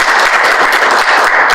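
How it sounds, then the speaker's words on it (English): Applause at a school board meeting, a dense burst of many people clapping together, loud and sustained through the short moment without a break. "I just wanted someone to get applause besides Carol"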